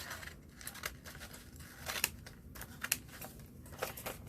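Scissors cut through a paper envelope in a run of soft, rapid snips and crisp clicks, close by and fairly quiet, with no voices.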